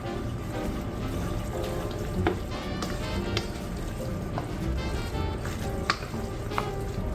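Cheese sauce is stirred into pasta in a pan, giving a wet squelching and scraping texture with occasional spoon clicks, steady and close, with no one talking.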